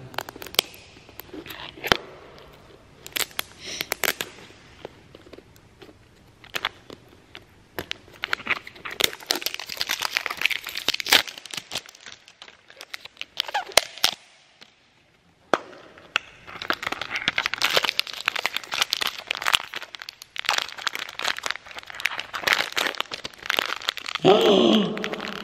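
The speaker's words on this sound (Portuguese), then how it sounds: "Agora é só abrir o último Pigmy Pops pra gente ver." Crinkling and tearing of Pikmi Pops surprise toy packaging being opened, a busy stretch of crackly plastic rustles and crunches up close, with a brief quiet pause midway and no speech.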